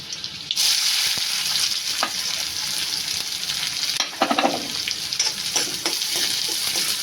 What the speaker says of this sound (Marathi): कांदा पण थोडा लालसर होईपर्यंत परता.